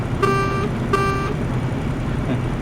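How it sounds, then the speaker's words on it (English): In Euro Truck Simulator 2, a truck horn sounds two short, bright toots in quick succession, loud against a steady background engine rumble. "What's the horn like on this one? Do we dare try it?"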